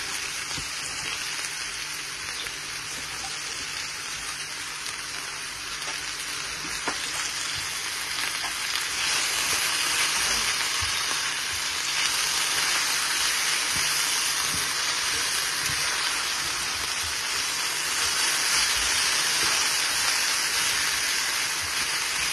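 Potatoes frying in a pan for aloo bhaji, a steady dense sizzle and crackle of hot oil running throughout, close and even, with faint scraping of stirring.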